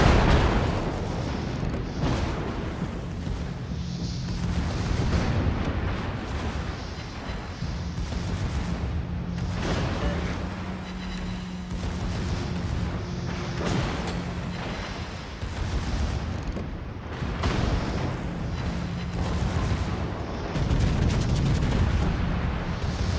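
Naval gunfire in a World of Warships clan battle: dense, continuous booming salvos and rumbling shell impacts rolling on without pause, loud and close throughout.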